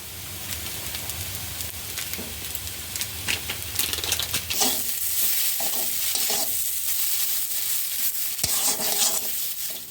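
Potato filling stirred in a hot pan, a steady frying sizzle with busy scraping and clattering strokes that grow denser midway, and nobody speaking.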